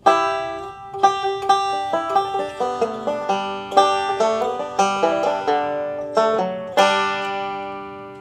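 Banjo picked in a quick rolling pattern of bright plucked notes, building to the closing phrase of "Cripple Creek," close and clear with no voices.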